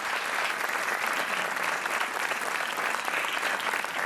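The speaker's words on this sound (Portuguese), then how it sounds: "Um aplauso para o Tiago Sol" Studio audience applauding a contestant's introduction on the RTP 1 game show Joker, even continuous clapping at a moderate level, heard alone without talk.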